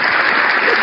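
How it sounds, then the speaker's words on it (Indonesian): Applause sound effect inserted during an Indonesian religious talk, a brief, dense, steady burst of many hands clapping at even loudness with no voices on top. "Tepuk tangan dulu efeknya."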